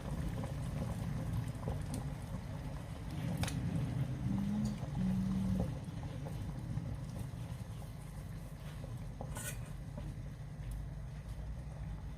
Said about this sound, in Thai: พอน้ำเดือดประมาณนี้เราก็ใส่ขนมต้มไปเลยนะคะ